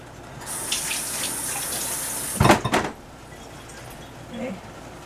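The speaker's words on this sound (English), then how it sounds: "I'm going to rinse off my knife." Kitchen tap running steadily as a knife is rinsed under the water, a continuous hiss with a louder clattering splash midway, then fading to quiet.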